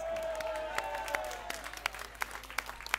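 An audience at a political speech in Orange applauds faintly, with scattered sharp claps spaced out over a low hum while a lingering tone fades in the background.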